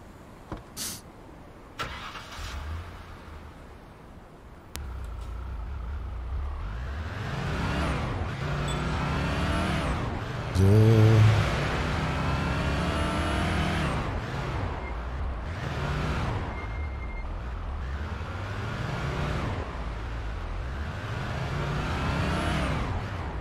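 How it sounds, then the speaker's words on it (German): An electric police car driving in Police Simulator: Patrol Officers: a motor whine rises and falls in repeated sweeps over a steady rolling rumble, starting after a quiet moment with a few clicks. "Nehmen wir wieder das E-Auto."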